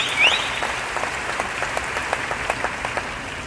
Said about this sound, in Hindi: उनके लिए जबरदस्त ताली होनी चाहिए।